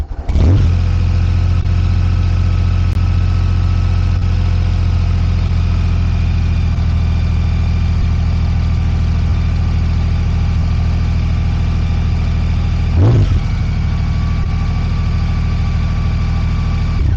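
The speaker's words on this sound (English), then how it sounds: "Let's end this with an exhaust startup of both motorcycles" A Honda Gold Wing motorcycle fires up with a sharp starter burst, then settles into a smooth, steady low idle from the exhaust, with a brief blip partway through, heard close and loud with no talk.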